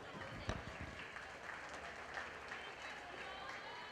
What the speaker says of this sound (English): Let's go ahead and give them all a round of applause